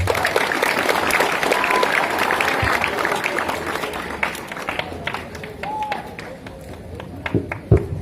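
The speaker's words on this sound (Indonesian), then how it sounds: "Ya, tepuk tangan untuk kita semua." Students at a school tree-planting event burst into sustained, dense applause nearby, a crackling wash of many hands that thins into scattered claps and thuds toward the end, with voices faintly mixed in.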